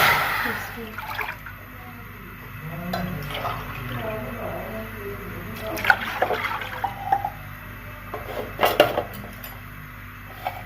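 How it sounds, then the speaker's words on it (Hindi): Water poured from a vessel into a pan on the stove for boiling pasta, a soft splashing trickle with light clinks of cookware, heard under a quiet kitchen background. "पैन हमने चूल्हे पर रख लिया है, तो अब हम इसमें ऐड करेंगे 2 कप पानी के।"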